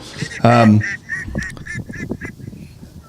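A voice imitates a duck, giving one loud, drawn-out nasal quack outdoors, followed by casual talk and laughter from nearby people.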